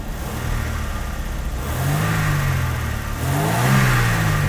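Mercedes W123 230E engine, old car with a faulty fuel distributor after repair, revving under throttle in a couple of rising pulls from a steady idle, close and loud, no talking.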